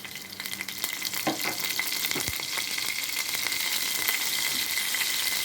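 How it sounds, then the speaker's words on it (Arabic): Minced onion frying in oil, with a steady close sizzle that swells after a couple of clinks from a spoon and then holds evenly to the end. "وبعد كده هنحط على الزيت ده ايه، معلقه بصل كده مفروم"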